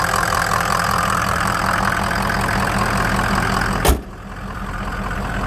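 A 2004 Ford F250 4x4 Lariat with the 6.0 Powerstroke turbo diesel and EGR deleted idles loudly and steadily with a rough clatter, then a sharp click cuts in and the level drops briefly before the idle settles back.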